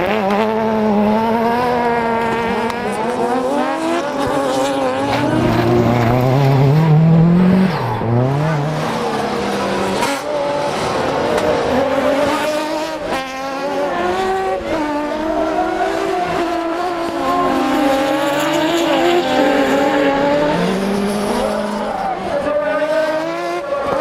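Peugeot 206 race cars in a race final at Is-sur-Tille, engines loudly revving and shifting up and down, with tires squealing at times, and a commentator talking over the roar.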